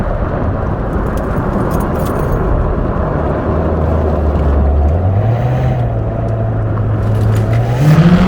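A C7 Corvette Z06 roars loudly from inside the cabin as it is driven through corners, its engine droning steadily before climbing in pitch near the end.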